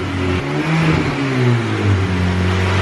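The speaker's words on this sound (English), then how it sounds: "You gotta give me one little rev, bro." A boosted 9th generation car engine revs up and down, a continuous throaty drone rising and falling in pitch, loud and close with no voices.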